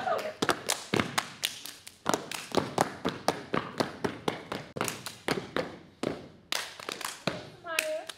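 Step dancers drive sharp, rhythmic claps and slaps against their legs and arms, close and crisp in a steady pattern of hits with brief pauses, and a voice briefly calls out near the end.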